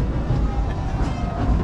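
The Disneyland Railroad train runs along its tracks, producing a dense, continuous low rumble with faint rolling noise, loud and steady without distinct beats or voices.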